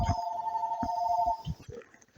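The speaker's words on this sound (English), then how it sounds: "That's the phone" A telephone rings in a steady electronic tone through the first part, with low speech and room noises underneath, then the ring stops and brief talk-like bursts follow.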